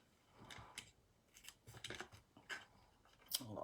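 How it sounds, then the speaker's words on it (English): Good crafting scissors snip through acetate sheet and cardstock in a series of short, close, crisp cuts, irregularly spaced with brief pauses between snips. "Get the good scissors out."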